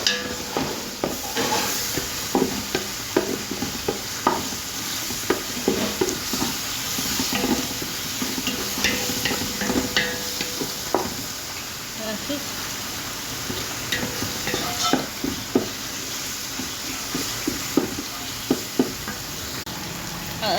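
Fresh tomatoes and tomato salsa stirred and sizzling in a pan while fish kabsa is cooked, a steady close frying hiss broken by frequent scraping stir strokes throughout, with no talking.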